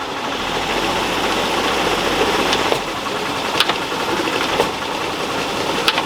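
A drag race engine with a 727 transmission runs on a dyno, held on the transmission brake in second gear, producing a loud, steady rumbling drone with a few sharp clicks and ticks over it.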